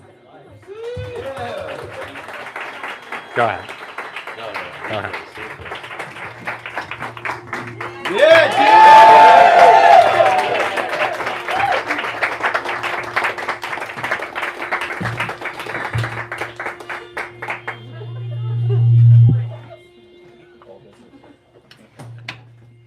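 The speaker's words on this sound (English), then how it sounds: "If we could have a round of applause." An audience at a reading event claps for a round of applause, a steady patter that swells in the middle and fades, with someone talking over it throughout.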